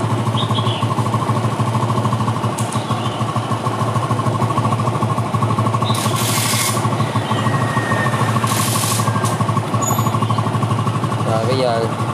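A Yamaha Nouvo 4 LX motorbike with battery and charging trouble runs at a steady idle, its engine a loud continuous drone throughout, with a person speaking over it.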